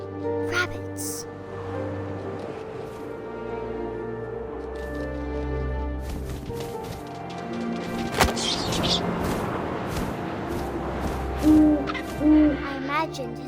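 Owl hooting in What Remains of Edith Finch, a few low, clear hoots late in the scene over wind and shifting musical tones, with a narrating voice speaking at times.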